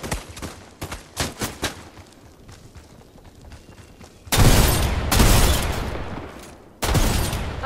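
Video game gunfire in a duos match: a few sharp scattered shots at first, then a loud, sustained burst of rapid fire that pauses briefly and resumes at full strength.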